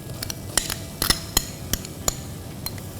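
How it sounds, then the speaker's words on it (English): Finely chopped tomatoes go into a pan of masala while cooking a Mopillah biryani, with a series of sharp metallic clinks and scrapes of a spoon against the pan, spaced irregularly over a soft background hiss. "Now to this let's add some tomatoes, some finely chopped tomatoes."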